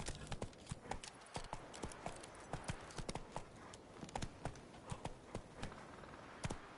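Horse hooves clip-clopping at a quick gallop in The Witcher video game, a steady rhythmic run of close, crisp hoofbeats with faint background ambience and no talk.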